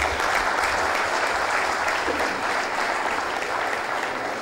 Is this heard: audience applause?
yes